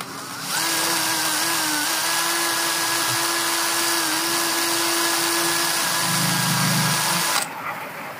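A cordless drill with a faulty forward direction runs steadily in reverse for about seven seconds, a loud continuous whine with a high motor tone, then cuts off abruptly.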